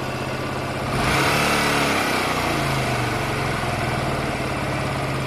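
A Honda Varadero 125 motorcycle engine idles steadily during carburettor tuning, close and continuous, its buzzing drone stepping up slightly in level after the first second and then holding even.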